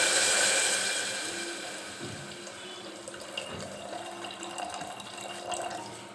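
Water poured into a cooking pot with fried spices for khichdi, a steady running, splashing flow that is loudest at the start and then eases into a softer fill with no voices.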